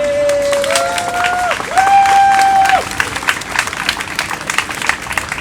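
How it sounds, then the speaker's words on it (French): A crowd at a Black Lives Matter memorial protest for George Floyd claps loudly for Maxime and Cassandra. Bright sustained tones and cheers ride over the clapping before the applause thins into scattered claps. "Une bonne main d'applaudissements pour Maxime et Cassandra."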